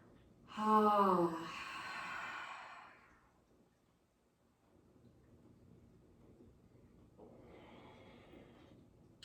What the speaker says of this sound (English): exhale out your mouth. So those cleansing, rinsing breaths.